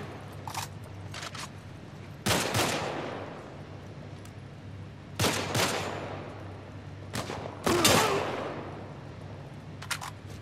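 Gunfire in The Last of Us Part I: several sharp, loud bursts of shots a few seconds apart, each trailing off with a reverberant tail over a low steady hum.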